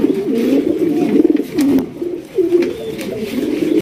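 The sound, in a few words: red Sirazi pigeons cooing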